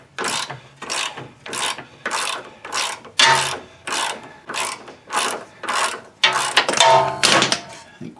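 A ratchet wrench turning a nut off a car's toe link, a rhythmic series of about a dozen close, rasping clicking strokes in steady cadence.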